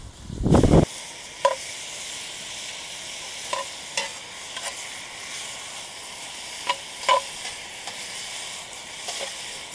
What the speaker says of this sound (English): Go ahead and get that searing. Let that sear.